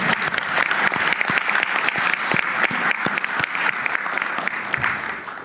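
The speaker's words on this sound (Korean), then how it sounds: "잘 만들었는데 박수라도 한번 치고." Applause from an audience at a national tourism strategy meeting with the president, dense steady clapping filling the room and continuing without a break.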